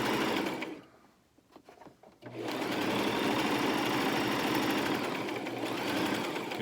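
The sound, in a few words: sewing machine stitching a Christmas stocking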